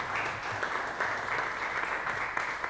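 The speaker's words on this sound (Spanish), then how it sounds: "Damos un fuerte aplauso a Abelardo Vázquez Ramos." An audience at a creative-industry talk in Baja California applauds, giving a steady wash of clapping at moderate distance with no voices over it.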